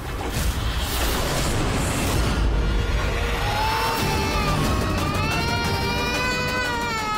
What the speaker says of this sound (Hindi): लल्ला के रोने की आवाज कहाँ से आ रही है